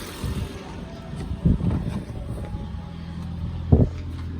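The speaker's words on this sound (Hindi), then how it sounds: "तो अब जैसे ये गाड़ी स्टार्ट हो चुकी है तो मतलब ये जो है ये अब हाइब्रिड बैटरी को चार्ज कर रही है" A hybrid car idles after starting up, its engine running on its own to charge a low hybrid battery. A steady low rumble carries throughout, broken by a couple of short, louder knocks.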